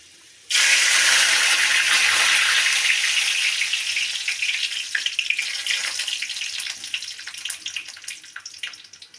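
Curry leaves and fenugreek seeds dropped into hot oil for a fish curry: a sudden loud burst of sizzling that stays bright and intense, then slowly settles into a crackling, popping fry close by.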